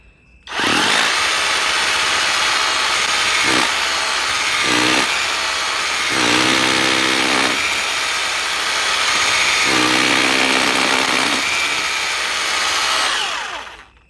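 A cheap cordless brushless rotary hammer drill runs loud and close for about thirteen seconds, a steady high whine with a gritty hammering buzz. Several brief dips in pitch and load break the run as the bit bores in, then the motor stops.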